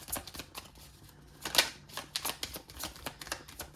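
Thin tarot cards being shuffled by hand, a run of quiet crisp riffling clicks and flutters with a sharper burst midway, no voices.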